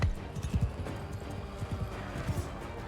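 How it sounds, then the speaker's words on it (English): Horse galloping in the video game Mount and Blade Bannerlord, quick rhythmic hoofbeats in repeating clusters, close and fairly loud, with a whinny-like tone and no talking. "My horse is gonna die."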